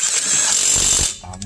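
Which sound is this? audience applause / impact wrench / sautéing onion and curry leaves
impact wrench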